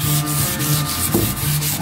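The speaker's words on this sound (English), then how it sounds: "I will sand it also" A Fender Jazzmaster guitar neck is sanded by hand, giving steady, close rasping strokes of abrasive paper rubbing over wood in a continuous rhythm.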